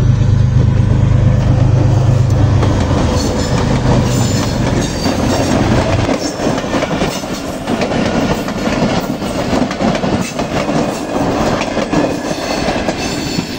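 A train rolls past on a railway track laid with a lemon, a loud continuous close rumble with rhythmic clickety-clack of wheels over rail joints and faint squealing, a deep low drone fading partway through.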